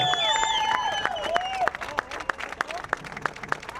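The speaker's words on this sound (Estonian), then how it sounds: "So let's take a random applause!" Clapping from an audience at a drift event prize ceremony, scattered claps building into a loose rhythm under a talking announcer, moderately distant with tonal sounds fading out early.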